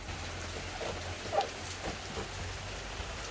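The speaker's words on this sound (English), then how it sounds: "So you may be able to hear that it's raining" Rain patters on an Iveco Daily van being converted, a faint, steady hiss of drops with a few slightly louder taps, heard from inside and quiet throughout.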